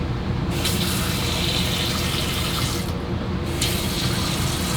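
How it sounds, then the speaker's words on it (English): Water gushes and splashes steadily nearby, a loud continuous rush from a running water pump feeding a flowing stream, with no voices. "Water pump's on."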